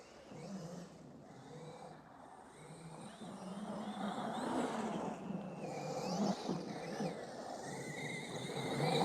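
An RC monster truck running laps on a track and grass makes a faint, distant electric motor whine that rises and falls as it accelerates and slows, growing a little louder toward the end.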